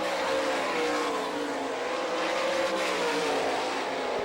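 Race cars roar around the Hartford, Michigan speedway during an All Star Circuit of Champions event, a steady loud engine drone with a slight rise and fall as cars run side by side through turn four.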